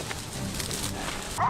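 Hunting dogs on a feral hog hunt in California yip and bark at a distance, with a sharper, louder bark near the end over a busy outdoor background.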